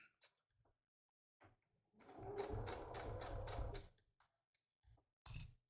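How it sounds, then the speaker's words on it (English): Sewing machine stitching a seam with a backstitch, a close burst of rapid rhythmic stitching lasting about two seconds, framed by quiet handling clicks and a short final whir. "And I'm going to start the seam and backstitch."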